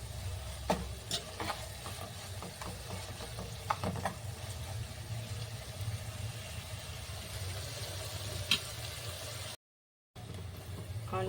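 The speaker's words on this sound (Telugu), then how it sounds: "ఆనియన్స్ పచ్చిమిర్చి అయితే ఫ్రై అయినాయండి" Onions and green chillies fry in a pan with a faint, steady sizzle, broken by a few light clicks from stirring; no talk is heard.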